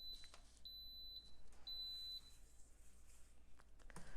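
An Instant Pot electric pressure cooker beeps while set to pressure cook for hard-boiled eggs, a series of faint high electronic tones of uneven length over quiet room noise.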